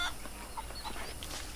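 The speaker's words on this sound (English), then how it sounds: "Chicken." Chicken clucking in the Red Dead Redemption video game, a few short clucks over a steady, fairly loud ambient background bed, no talking.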